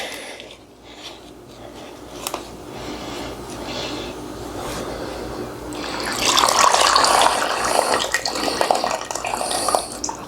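Water runs and splashes through a strainer while beeswax is cleaned, starting as a light trickle and swelling into a louder steady pour near the end.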